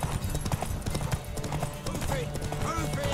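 Horse hooves gallop in The Witcher 3 video game, a rapid, steady clip-clop under loud music and a speaking voice.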